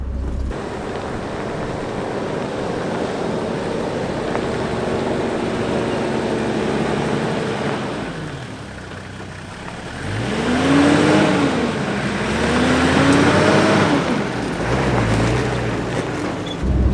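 A Land Cruiser chugging slowly uphill along a fire break, a steady low engine rumble with wind noise, dipping briefly before the engine labours louder with rising and falling revs.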